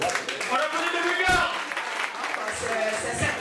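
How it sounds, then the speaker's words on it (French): An audience applauds the winner at a graduation ceremony final, steady clapping filling the room while a voice speaks over it. "Donc applaudissez la personne là."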